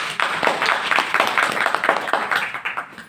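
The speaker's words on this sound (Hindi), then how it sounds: "पहले करण भाई के लिए ताली बजा दो।" Audience applause for Karan Bhai at a Brahma Kumaris gathering, a brief burst of steady clapping from a crowd, close and lively, fading slightly toward the end.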